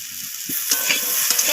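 Garlic paste, ginger paste and salt being stirred and sautéed in a pan give a steady close sizzle, broken by soft scraping strokes of the spoon at an uneven rhythm.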